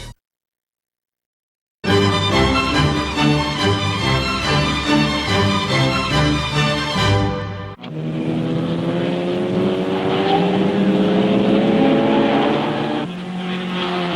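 An Aston Martin racing car in a motor race roars loudly after a brief silence, its engine note shifting as it passes close and carries on at high revs.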